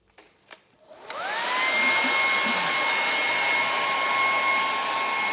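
A heat tool drying stencil paint clicks on and rises into a steady loud whooshing blow with a high whine, running continuously close by after a few soft handling taps.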